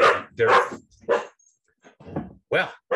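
A pet dog barks and yips in short, loud bursts at close range, several times over a few seconds.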